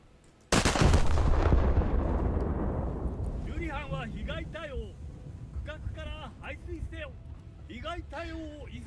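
A battleship's main guns fire a salvo in a naval combat game, one sudden loud blast that rolls into a long fading rumble, followed by someone talking over the dying echo.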